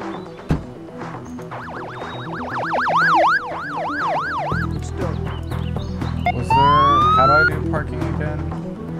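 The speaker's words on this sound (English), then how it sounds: "Oh, I like those sirens." Wailing and yelping emergency vehicle sirens from the video game Emergency 4, rising and falling loudly over a steady engine drone, then shifting to a faster, higher siren pattern.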